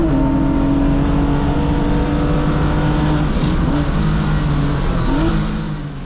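Porsche Sprint Challenge race cars run along a short straight after a corner, their engines a loud, steady, high-revving drone with brief pitch dips at gear changes and no talk.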